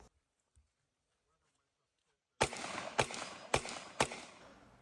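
Four sharp gunshots from a Scorpion pistol fired through a tire at a close-quarters shooting match, spaced roughly half a second apart, loud and close after a quiet stretch.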